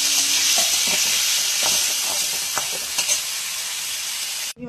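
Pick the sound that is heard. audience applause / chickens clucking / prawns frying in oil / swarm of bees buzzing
prawns frying in oil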